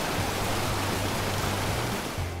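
Yumbilla waterfall in Peru roars in a dense, continuous rush of falling water, loud and unbroken, with a low hum underneath.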